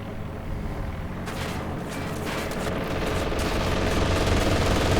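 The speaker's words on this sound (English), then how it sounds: "Strafing run." Aircraft machine guns strafing in a real-time strategy battle: a dense, rattling barrage of rapid gunfire and explosions that builds steadily louder over a constant rumble.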